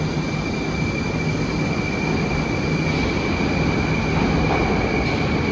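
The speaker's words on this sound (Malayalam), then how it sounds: "ഞങ്ങളിപ്പോൾ മെട്രോ സ്റ്റേഷനിൽ എത്തിയിട്ടുണ്ട്" A metro train rolls through the station with a loud, continuous rumble and a steady high-pitched whine, the noise holding even throughout with no voices.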